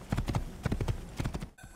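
Rhythmic hoofbeats of a horse clip-clopping at a steady trot in the Assassin's Creed video game, loud and close, repeating in quick groups before a brief cut near the end.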